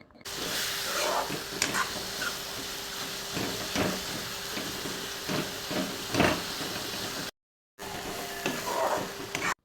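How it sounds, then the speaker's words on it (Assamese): Greens and three broken boiled potatoes frying together in a pan and being stirred, giving a steady sizzle and hiss with scraping stirs, briefly cutting out near the end. "আলু 3টা দি আলু 3টা ভাঙি শাকৰ লগত অকণমান সময় ভাজি লৈছোঁ"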